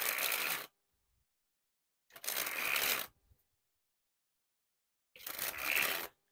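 Three quick bursts of Cactus Standard playing cards springing from one hand to the other, each a dense riffling flutter lasting under a second, separated by silence and heard close up.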